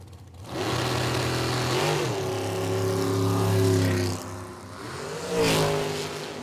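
Nitro drag racing car coming off the throttle stop at an IHRA Outlaw Nitro event on an asphalt and concrete track, a loud, close engine roar that rises, dips briefly, then surges again.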